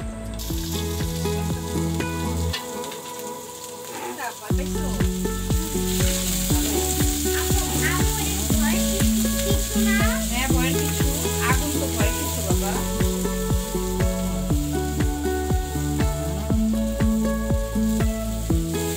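Chopped onion sizzles steadily in a hot pan while being fried for a beef spleen mash, a continuous bright hiss beneath loud rhythmic background music.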